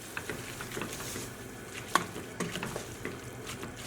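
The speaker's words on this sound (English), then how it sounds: "we just want to mix that all together" A spiced filling with nutmeg and cinnamon is stirred in a pan, giving soft scraping and light sizzling with a few sharper utensil clinks against the metal.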